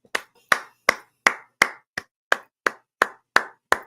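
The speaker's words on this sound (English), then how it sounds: "That's me clapping." One man claps his hands alone, about eleven sharp, close claps at a steady, even rhythm with silence between each.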